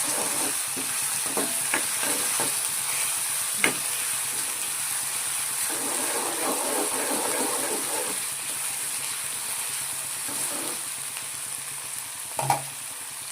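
Onions frying in a pan and being stirred while cooking down for a Gujarati green pigeon pea curry: a steady sizzle runs throughout, broken by occasional scrapes and taps of the spoon, close and alone.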